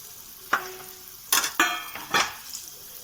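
Dry ground coriander and turmeric fry in a pan for a pumpkin curry, with a few sharp sizzles and bursts of stirring and utensil scrapes, close and clear.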